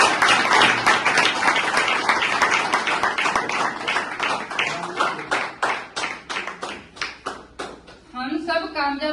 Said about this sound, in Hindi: तो अपने लिए एक बार जोरदार तालियां।